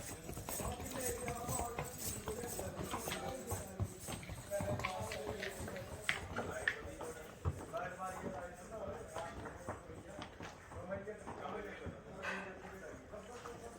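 A mule, a horse-donkey cross, clip-clops on the pilgrim path to Mata Vaishno Devi temple in Jammu, its hooves striking in a steady repeated rhythm under nearby voices and background bustle.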